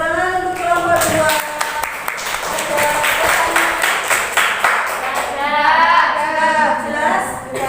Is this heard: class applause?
yes